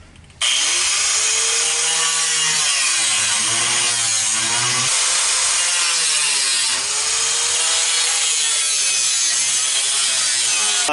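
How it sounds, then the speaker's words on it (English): An oscillating saw cuts through pallet wood during an RV bathroom renovation, a loud, buzzing whine running nonstop after a brief start, its pitch wavering slightly as the blade works through the board. "I use this oscillating saw."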